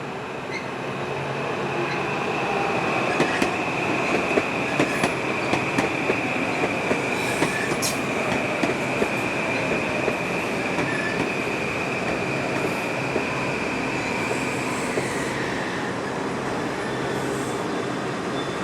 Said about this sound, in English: This section of the corridor is owned by Metro-North as far as New Haven, hosting regular commuter service using the railroad's M8 train sets